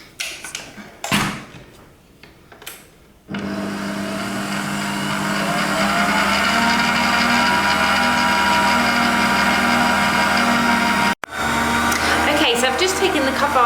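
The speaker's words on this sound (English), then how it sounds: "mix the buttercream for at least 5 minutes" An electric mixer whirs steadily while mixing buttercream, starting after a few brief knocks and running loud and continuous for about ten seconds, with a short break before it resumes.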